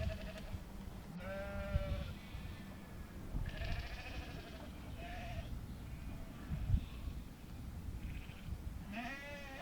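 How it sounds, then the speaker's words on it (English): Sheep in a field beside a 7 1/4 inch miniature railway bleat several times, a few calls spaced across the stretch, some nearer and louder, over a low rumbling background. "Sometimes there's sheep in that field."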